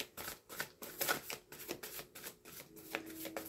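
A deck of tarot cards is shuffled by hand in a series of quick papery riffles and slaps, close and fairly quiet, repeating steadily with short pauses.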